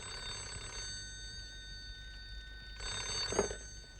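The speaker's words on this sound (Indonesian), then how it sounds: "Angkat telepon!" A telephone bell rings twice in an indoor home setting, each ring a long metallic trill with a pause between, clear and at moderate distance with no talking.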